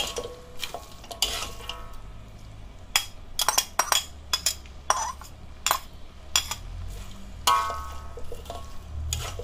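Fried kway teow with prawns, chives and bean sprouts is stirred in a pan, with a spatula clinking and scraping in repeated bursts over a soft sizzle.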